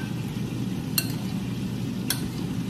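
Oregano is stirred into a salad dressing, with two bright clinks of a utensil against the bowl over a low steady background hum.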